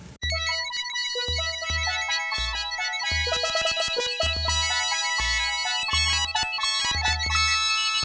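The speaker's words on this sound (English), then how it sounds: "it involved crude approximations of the instruments through additive synthesis rather than more accurate instrument samples" MIDI music played through a vintage additive-synthesis sound card: thin, buzzy tones crudely approximating instruments in a bouncy melody over a steady bass pulse, continuous and fairly loud with no voices.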